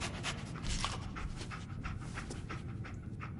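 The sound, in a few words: dog Dogmeat panting, from video game Fallout 4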